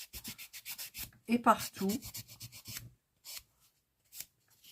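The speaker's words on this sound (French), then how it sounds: "ce polissoir et je vais polir à ras" Brisk rubbing strokes of a nail buffer polishing a false nail, a rapid run of short scratchy bursts, close and fairly faint, with a few words spoken briefly in the middle before the strokes turn sparse.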